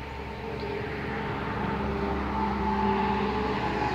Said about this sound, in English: you can hear the trucks on the expressway